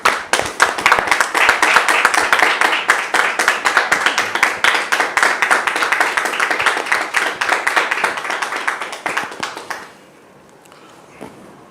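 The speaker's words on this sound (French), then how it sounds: "Avec vos applaudissements, s'il vous plaît." A gathered audience welcomes a guest with about ten seconds of loud, rhythmic clapping, individual hand claps clearly audible, before it stops abruptly and leaves a quiet room.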